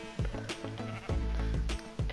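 Sheep in the Minecraft video game bleat several times in a row, loud and close, with short gaps between the wavering cries and no talking.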